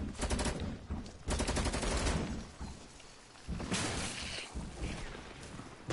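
Loud automatic gunfire in a video game, long rattling bursts of rapid shots separated by short breaks, close and dominant.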